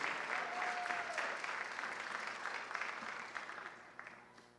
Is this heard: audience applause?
yes